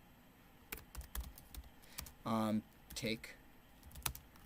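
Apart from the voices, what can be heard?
typing on a computer keyboard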